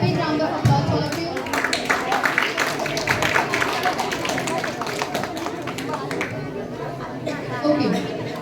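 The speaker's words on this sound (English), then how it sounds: "give all the participants a very big round of applause" A children's quiz audience in a room claps steadily, a continuous patter of applause with chatter mixed in that tapers off toward the end.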